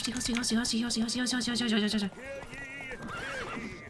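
Roach the horse in The Witcher 3 gives a loud, close whinny with clip-clop hooves under it, followed by softer snorts and game sounds, all played under a speaking voice.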